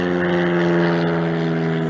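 A small propeller airplane passes close overhead on an early October day in open country, its engine drone loud and steady with a strong harmonic hum that fills the whole moment, no voices.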